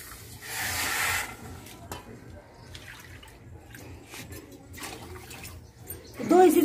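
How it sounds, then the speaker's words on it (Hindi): Water pours into a saucepan holding sugar for a Parle-G biscuit gulab jamun syrup, heard as a steady splashing hiss that swells near the start, followed by quieter kitchen handling and a short clatter at the end. "चीनी डालने के बाद यहाँ पर डालेंगे भर के इसको पानी"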